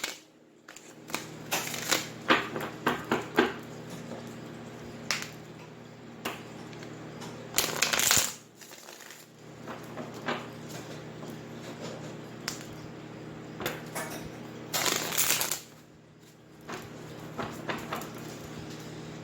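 Tarot energy cards shuffled by hand in repeated riffling bursts, loud and close, with several sharper flurries and brief pauses between, no voices.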